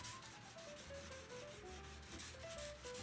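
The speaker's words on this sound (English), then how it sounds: "I'm gonna vise this up and hand sand the fuller up to 600 grit" 600-grit sandpaper rubs back and forth by hand along the fuller of a Scottish arming sword clamped in a vise, a steady close rasping with rhythmic strokes and no talking.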